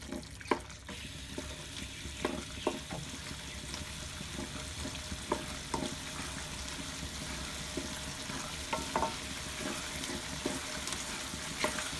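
Cauliflower curry with tomatoes fries in a pan, a steady low sizzle broken by scattered scraping and stirring clicks throughout.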